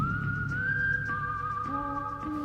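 A famous whistled melody from a Western film score sounds alone, clear and sustained, a single bright whistled line gliding between long held notes with faint accompaniment underneath.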